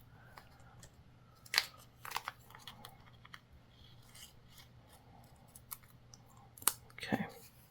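Scissors snip through paper trimmed for a reading journal, a few sharp, close cuts spaced apart with light rubbing and handling of paper in between, quiet overall.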